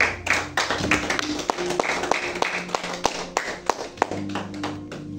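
Congregation clapping to applaud the Lord at a French-language church service: a steady patter of many hands, fairly close, with sharp individual claps standing out and a low sustained tone underneath.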